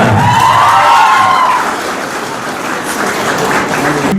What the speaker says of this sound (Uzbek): Guldiroz olqishlar.